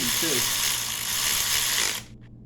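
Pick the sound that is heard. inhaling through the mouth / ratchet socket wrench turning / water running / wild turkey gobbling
ratchet socket wrench turning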